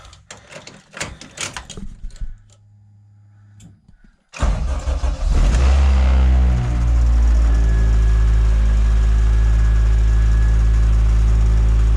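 Clicks and faint rustling, a short pause, then a Honda Civic Type R engine cranks and roars to life, settling into a loud, steady, throaty idle.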